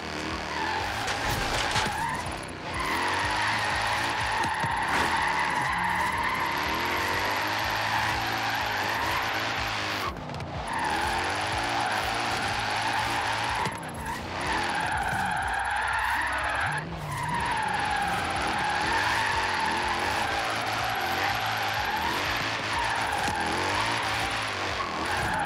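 A car drifts in the racing game Forza Horizon 3, a small roadster whose tires squeal in long, continuous skids over a steady engine roar, loud and close throughout with only brief pauses between slides.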